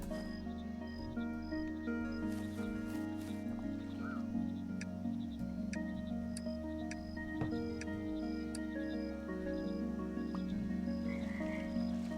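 A frog croaks repeatedly in the video game Mudborne, the rhythmic croaks set against a layered game soundtrack with sustained tones and occasional ticking clicks, steady throughout.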